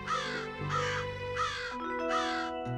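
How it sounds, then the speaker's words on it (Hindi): Crow cawing loudly and close, four evenly spaced harsh caws over a steady background hum with faint musical tones. "ये कौवा क्यों बोल रहा है आज इतना?"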